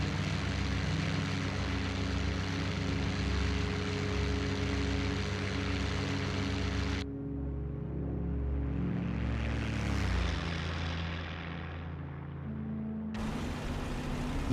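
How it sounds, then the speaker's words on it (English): Steady droning propeller engine of a P-51B fighter plane in the flight simulator IL-2, loud and continuous with a brief shift in pitch partway through, no talking. "Probably my favorite plane in the game, the P-51B."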